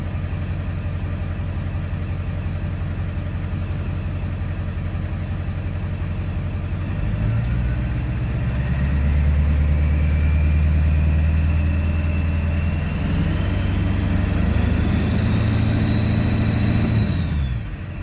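A Ford car engine turns over and settles into a steady idle, then rises briefly in pitch before easing back, heard up close and loud with no talking.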